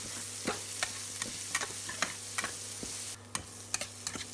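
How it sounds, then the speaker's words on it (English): Garlic, chili, green onion and carrot stir-fried in a pan, a soft steady sizzle broken by regular sharp clicks and scrapes of the spatula, close and fairly quiet, no talk. "Continue to stir-fry until the carrots soften."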